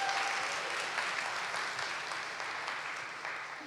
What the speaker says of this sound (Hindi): तो आप सब बर्बाद औरतों के लिए बहुत बहुत तालियां.